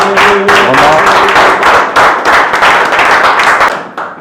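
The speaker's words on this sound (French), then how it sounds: "Acclamation encore pour vous-même, pour votre présence" An audience claps and applauds steadily at the close of an MMA referee-judge training course, with dense, loud, continuous hand clapping throughout and no speech over it.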